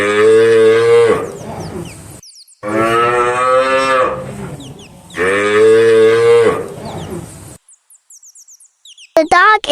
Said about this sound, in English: Here comes a cow, it says moo all day long.